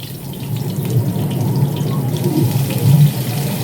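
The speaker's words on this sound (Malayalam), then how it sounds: "അതിലേക്ക് വേപ്പിൻ്റെ ഇല ഇട്ട് കൊടുക്കാം" Beef frying in a hot pan as curry leaves are added, giving a steady, fairly loud close crackling hiss that runs unbroken, with no voices.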